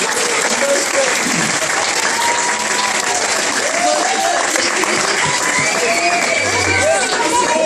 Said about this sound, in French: On peut les applaudir encore très fort.